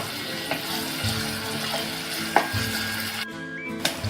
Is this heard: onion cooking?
yes